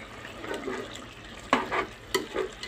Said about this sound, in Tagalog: Tululuto na yung gulay nito.